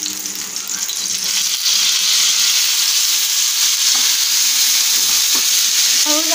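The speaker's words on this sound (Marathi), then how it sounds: "मासा आपला छान फ्राय होत आहे।" Kingfish (kobda) coated in masala, rava and rice flour fries on a hot iron tawa, giving a steady close sizzle that swells louder after a couple of seconds, with a few faint scraping clinks near the end.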